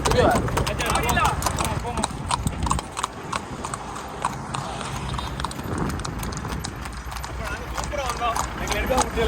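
Horse hooves clip-clop steadily as the horse is ridden, a continuous rhythmic patter of close hoofbeats. A person talks over them throughout.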